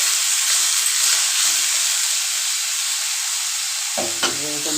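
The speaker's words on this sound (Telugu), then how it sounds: "ఆయిల్ వేడయ్యాక ముందే కట్ చేసి పెట్టుకున్న ఆనియన్, పచ్చిమిర్చి వేసుకొని" Chopped onion and green chillies fry in hot oil in a kadai with a loud, steady hiss and crackle, then a sudden thump and rattling stir near the end.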